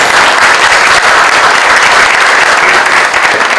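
An audience at the opening ceremony of a 2023 crime prevention convention in Korea breaks into loud applause. Many hands clap in a continuous, dense wash that holds steady close by throughout, with no talk over it.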